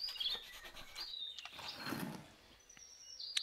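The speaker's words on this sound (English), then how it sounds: "There is a bird, and it's singing." A bird sings in a video game scene, giving high chirps and short whistled notes scattered over soft rustling, moderately close and with no talking.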